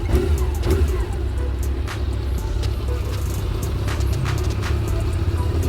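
A Honda CB400 motorcycle engine, under repair for a starting fault, runs with a steady, loud low rumble and scattered sharp clicks throughout, close by.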